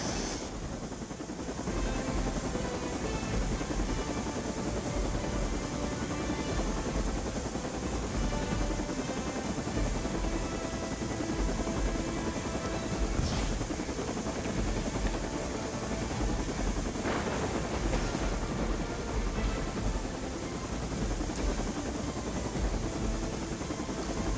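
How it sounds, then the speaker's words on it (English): A helicopter in Marvel's Midnight Suns thrums loudly and steadily throughout, its rotor and engine roar close and continuous with no talk over it. "The helicopter is about to leave"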